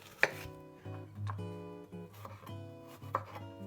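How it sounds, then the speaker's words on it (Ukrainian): A knife slicing a sweet onion into half rings on a cutting board, a few soft separate cuts and taps over a few seconds, close and quiet, with music playing underneath. "Солодку цибулю нарізаємо півкільцями"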